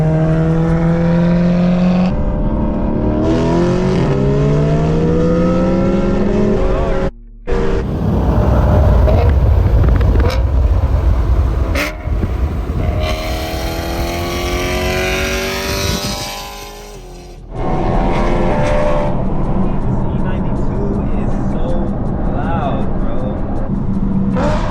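A BMW E92 M3 engine and exhaust while driving, loud, rising and falling revs through gear changes with brief cuts between pulls; talking is mixed in.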